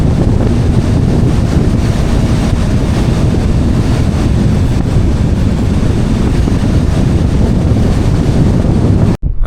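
Strong, steady wind roars across the microphone on Lake Mead with a low rumble and faint water lapping, continuous and loud throughout, cutting off abruptly at the end.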